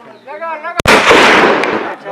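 A gun fired during a visit to Fort Munro near Dera Ghazi Khan, Pakistan: one sharp, loud report that breaks off talking, followed by a long, dense roar of echo or burst noise lasting more than a second.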